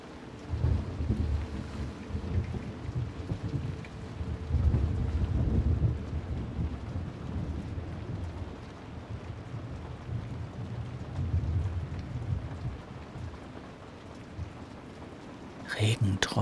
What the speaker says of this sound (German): Regentropfen peitschen gegen die Scheiben und der Wind treibt dunkle Wolken über den Himmel.